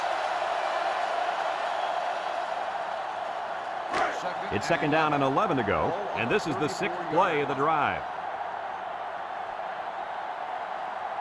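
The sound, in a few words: sellout stadium crowd noise in video game NCAA Football 2005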